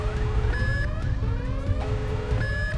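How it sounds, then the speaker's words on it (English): Alarms in The Beginner's Guide video game wail through a space station, rising and falling electronic siren tones with sharp repeating beeps over a low rumbling hum, loud and urgent. "Definitely a sense of urgency with like the alarms going off."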